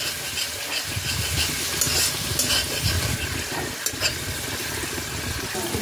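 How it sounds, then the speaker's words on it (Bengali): Ginger-garlic paste and onions fry in a pan for fish curry, giving a continuous crackling sizzle with scraping stirs and a low rumbling undertone, close and fairly loud. "আদা রসুনের পেস্টটাকে পেঁয়াজের সাথে ভালো করে কষিয়ে নিতে হবে"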